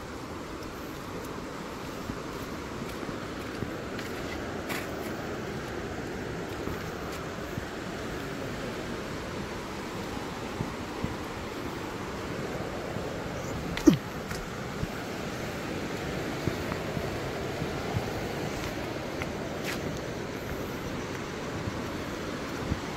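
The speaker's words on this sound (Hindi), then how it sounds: "पानी का बहाव काफी तेज है।" Fast-flowing Kosi river rushing past bridge pillars, a steady broadband roar of water that stays even and unbroken throughout, with occasional faint knocks over it.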